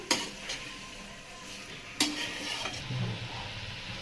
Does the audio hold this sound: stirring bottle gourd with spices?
yes